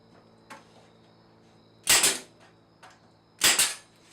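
A nail gun fires into a wooden bookcase: two sharp, loud pneumatic shots about a second and a half apart, with a faint click before them, nearby in a quiet room.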